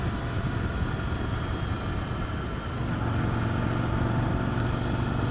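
Steady engine drone of a motorcycle ridden out through the countryside, a continuous low rumble with wind noise that holds loud and unbroken throughout, with no talk over it.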